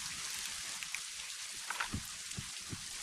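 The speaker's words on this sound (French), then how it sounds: "Allez, réinvoquons la pluie, mais cette fois-ci on va essayer de pas se gourer." Steady rain summoned inside Scribblenauts Unlimited hisses across the whole clip as a constant wash, with a few faint low thumps scattered through it and no voices.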